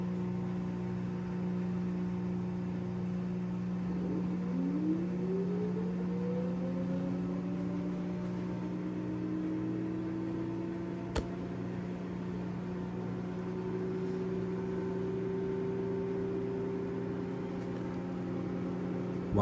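LG washing machine ramping into a fast spin cycle: a steady motor hum with rising, sweeping whine tones as the drum speeds up, continuous and fairly loud with no talk.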